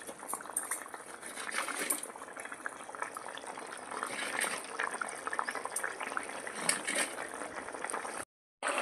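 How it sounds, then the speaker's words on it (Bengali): A pot of hilsa fish and eggplant curry with a splash of raw mustard oil bubbles at a steady simmer, a soft continuous bubbling and gurgle up close, cutting out briefly near the end. "2 মিনিট একটু ফুটিয়ে নেব।"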